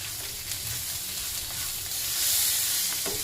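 Vegetables fry in oil over a low flame for a village-style hasi avarekalu sambar, giving a steady, close sizzle and hiss with a faint stirring scrape near the end.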